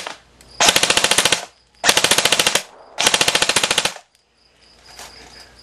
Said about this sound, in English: I'm shooting from inside my garage